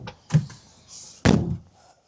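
A car door, previously bent and now repaired, is shut with one solid, close thunk, preceded by softer handling knocks and rattles of the latch.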